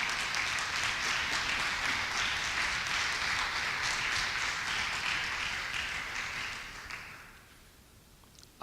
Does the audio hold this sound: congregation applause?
yes